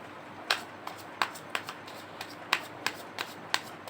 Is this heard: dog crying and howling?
no